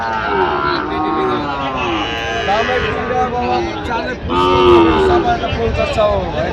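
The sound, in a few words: Sahiwal bull calves at a cattle market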